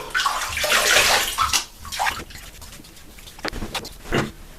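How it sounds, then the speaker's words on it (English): Water splashes and sloshes close by as hands wet a face before shaving, in repeated bursts with short pauses between. "Let me wet my face and get the bloom"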